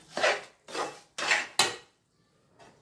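Sukhdi mixture being stirred in a pan off the flame, four rhythmic scraping strokes of a spoon against the metal, close and fairly loud, then a faint fifth scrape after a pause.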